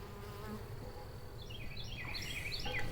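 Honey bees from a hive holding a swarm caught at a club apiary buzz steadily nearby, with rising whining passes as individual bees fly close near the end.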